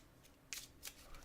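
Cards shuffled for a solo game of Machina Arcana, heard as a few short, crisp riffling bursts, close and fairly quiet, with no voices.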